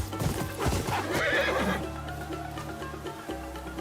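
A horse in the Ghost of Yotei video game lets out a loud dramatic whinny over clopping hooves, the neigh rising then tailing off as hoofbeats continue near.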